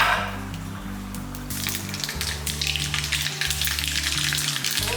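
Mustard seeds and urad dal fry in hot groundnut oil for a village-style sambar tempering, giving a steady close sizzle with light crackle and popping that grows slightly louder over five seconds and has no talk.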